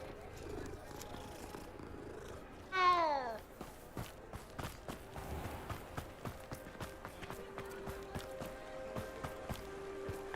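A cat in Hogwarts Legacy purrs while being petted, a short chirping meow rising over a soft, steady ambient bed, followed by a run of evenly spaced, light footfall taps.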